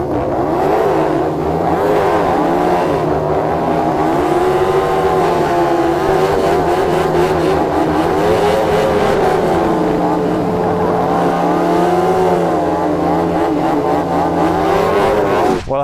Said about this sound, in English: It'd be great to see some burnouts to end the video.